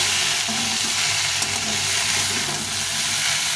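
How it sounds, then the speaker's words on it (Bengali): Spice paste being fried in a pan for a thin fish curry: a dense, steady sizzle with faint stirring scrapes, close and loud, no voices. "মশলাটা কষা হয়ে গেছে"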